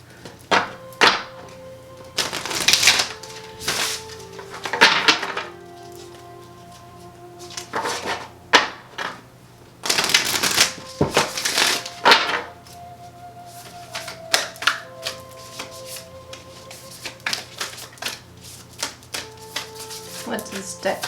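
A new tarot card deck is shuffled in irregular bursts of clacking, riffling card sounds, with soft thumps and quiet stretches between them.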